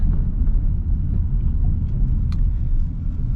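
A car engine hums as a low, steady rumble throughout while driving, close and continuous, with no talking.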